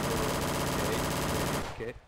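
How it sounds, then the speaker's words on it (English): An automatic weapon fires in Garry's Mod DarkRP, a loud rapid continuous burst that cuts off near the end, followed by a brief voice. "Is that an automatic gun?"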